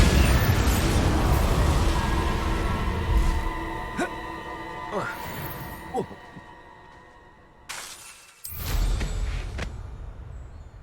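Spell blasts in Hogwarts Legacy: a fire spell, an explosive Confringo and a Bombarda burst land over a busy game soundscape, with a sharp crack near the end followed by a deep boom.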